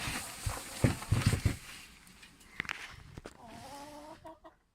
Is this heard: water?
no